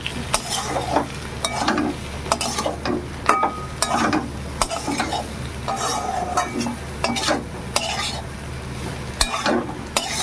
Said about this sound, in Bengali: আবারও জিরে ধনে সঙ্গে ভালো করে মিশিয়ে নিলাম